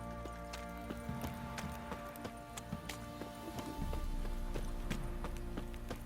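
Horse hooves clip-clop steadily in The Witcher 3, a continuous trotting rhythm over a dense game soundscape with a low hum and scattered sharp ticks, growing slightly louder toward the end.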